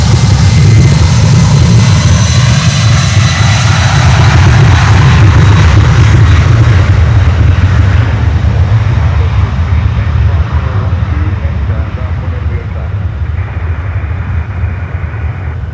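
Sun Country jet landing at Miami with a loud, steady roar of engines that fades slowly over about fifteen seconds, broad rumble dominating throughout.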